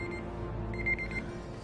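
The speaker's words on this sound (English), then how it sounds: "Now my 9:45 alarm comes." A 9:45 alarm clock going off indoors, a short burst of high electronic beeping heard over a steady low background hum; no talking.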